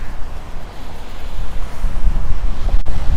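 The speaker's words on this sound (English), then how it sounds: "Very windy right here." Strong wind buffets the microphone in a steady, loud, low rumble with gusty surges, no voices present.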